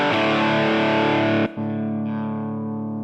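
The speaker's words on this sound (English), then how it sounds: "Yes, it handles distortion too." An electric guitar with Rickenbacker-style toaster pickups plays a loud distorted chord that rings out, is briefly cut off, then is struck again and sustains, alone with no talk.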